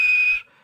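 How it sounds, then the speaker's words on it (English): A short, high steam locomotive whistle blast sounds for under half a second, then cuts off into a faint fading tail. "And he blew his whistle."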